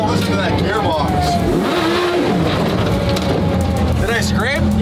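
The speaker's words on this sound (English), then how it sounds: "Oh, listen to that gearbox." A race car engine with a sequential gearbox revs hard and shifts gears in quick succession, loud and close, with a voice audible over the roar.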